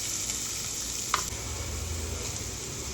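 Onions, mustard seeds, lentils and curry leaves sauté in a pan with a steady, soft sizzle, broken once by a single sharp clink partway through, and no voices.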